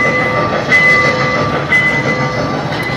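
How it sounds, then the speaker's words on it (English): A train rolling past on the rails, a loud continuous rumble with steady wheel noise and a faint high tonal whine throughout. "Let's get a bit of this old choo-choo train."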